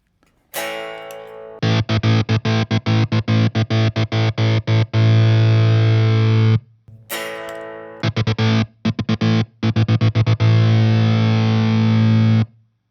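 Distorted electric guitar chords chopped by a kill switch into rapid rhythmic stutters, two loud bursts of on-off pulsing with sustained fuzzy chords between, no voices.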